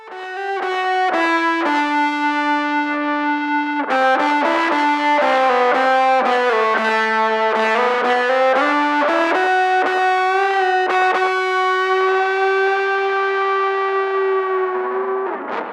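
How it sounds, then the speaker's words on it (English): An acoustic guitar played through a Fender Smolder Acoustic Overdrive pedal, sustained distorted notes and chords ringing with crunchy saturation, melodic and continuous, loud and close, no voices. "The drive can go from that just slight break up with that just a little bit of saturation"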